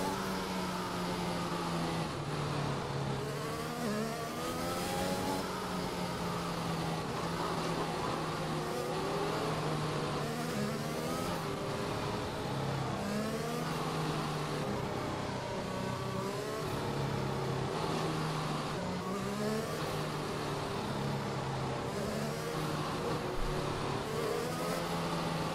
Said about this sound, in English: we see all the cars here warming up their tyres and preparing for the safety car restart